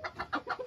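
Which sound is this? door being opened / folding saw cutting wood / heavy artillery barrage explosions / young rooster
young rooster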